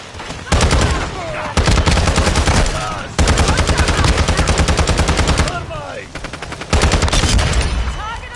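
Rapid automatic gunfire in Modern Warfare 2, loud and close, coming in several sustained bursts with short gaps between them and faint game voices in the background.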